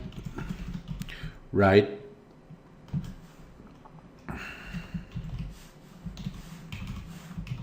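Code being typed on a computer keyboard during a JavaScript tutorial: a steady run of light, quick key clicks, close by, with occasional louder taps and someone speaking over them.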